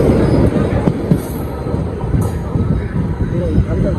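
A passenger train on the route from Arakkonam toward Chennai, with a dense, steady rumble of wheels and carriages close by, faint squeals at moments and a background voice.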